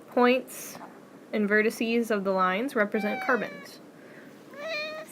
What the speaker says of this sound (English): Excuse my cat meowing.